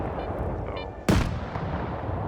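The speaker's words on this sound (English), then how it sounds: "maybe those NPCs are fighting some other NPCs out there" A single sharp gunshot cracks out over steady ambient background noise as NPCs exchange fire in Stalker 2, a brief loud burst mid-clip rather than sustained shooting.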